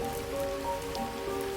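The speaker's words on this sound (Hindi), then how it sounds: "और बारिश भी बहुत तेज बढ़ जाती है" Heavy rain pours down as a cartoon sound effect, a dense, steady hiss of falling drops running briefly without pause.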